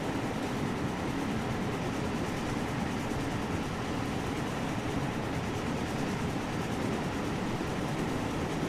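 A train rumbles steadily along in Train Sim World 3, its continuous engine and wheel noise holding at an even, moderate level throughout with no voices.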